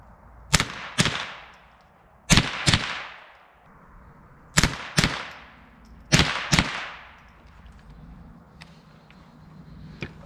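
Rapid fire from a .22 rifle with Remington Gold ammunition, a sharp loud crack followed by a quick echo, shots coming in pairs about every second or two, outdoors with no talk.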